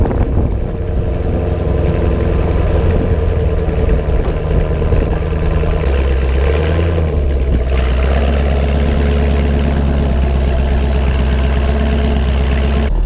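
A car engine with a stock NPP exhaust idles steadily, a loud, constant low rumble that shifts slightly in tone partway through and carries on alone without any voices.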